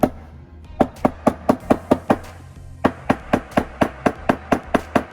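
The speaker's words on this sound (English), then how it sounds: "I'm gonna give it a tiny tap" Copper ring rim being tapped down onto a snug wooden inlay band, heard as a steady series of about fifteen sharp, close knocks at an even quick rhythm after a brief pause, with no talking.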